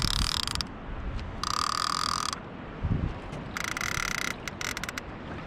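An Abu Garcia C3 Catfish Special baitcasting reel, similar to an Abu 7000, is cranked to tighten line while anchored up fishing. It gives a close, mechanical whirring ratchet in three bursts with short pauses between them, over soft water ambience.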